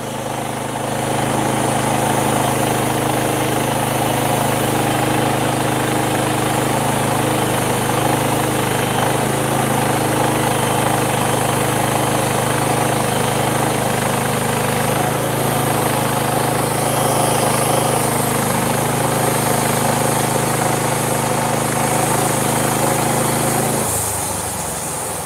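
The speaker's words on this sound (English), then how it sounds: "Not chainsaw, it's a bandsaw." A motorized bandsaw drones loudly and steadily for a long stretch, a constant mechanical hum and whine as it cuts through a large wood slab.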